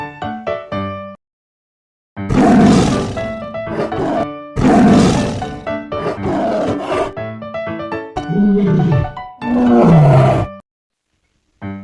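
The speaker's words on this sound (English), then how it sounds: "Tiger." Big cat roaring in several loud, close bursts, each a deep rumbling roar separated by short pauses, with a brief quieter growl at the start.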